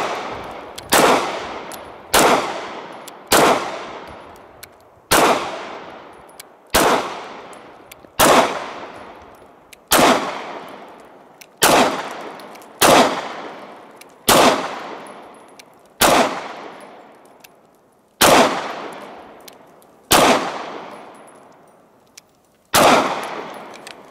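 An HK VP9 9mm pistol fires at a range, with about fifteen loud, close shots in a fairly even rhythm, a second or two apart. Each sharp crack rings out into a decaying echo before the next one.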